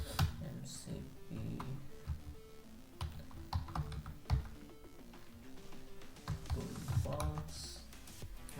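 Fingers type a command on a computer keyboard, irregular clusters of quiet close clicks and taps with short pauses between bursts.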